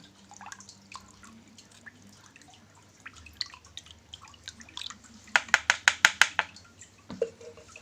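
Betadine solution dripped into water while treating an anubias aquarium plant, starting with faint scattered plinks and then a quick run of louder, close drops, with no talking.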